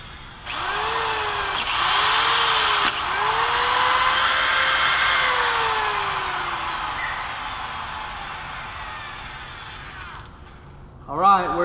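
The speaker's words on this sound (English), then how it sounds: "That's how you power up a Bridgeport or a Bridgeport style lathe with 3-phase" Bridgeport-style milling machine on 3-phase power spinning up, a loud steady motor whine that rises and holds for about ten seconds, then cuts off and winds down.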